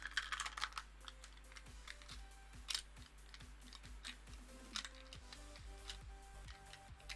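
Clicky computer keyboard typing, faint and close, with irregular bursts of sharp key clacks over a low steady hum, no talking.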